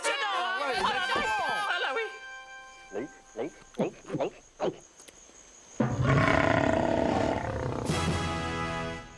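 A game-show contestant's voice imitates an animal roar: a string of short growling roars of rising force, then a loud burst of music and crowd noise from the studio.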